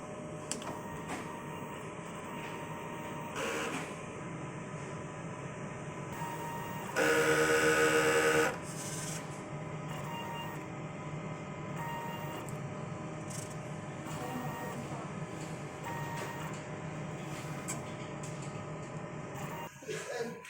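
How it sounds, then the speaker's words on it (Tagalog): An inkjet printer running a quick cleaning cycle gives a steady mechanical whir throughout, with a louder burst of motor noise partway through and no talk. "So, after natin ma-on yung printer, so, mag-cleaning po tayo."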